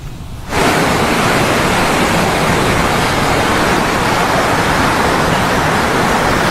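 Floodwater roaring through the Manggarai floodgate on the Ciliwung river in Jakarta after heavy rain, a loud, steady broadband rush that swells in abruptly after a quieter moment and holds constant, no voices.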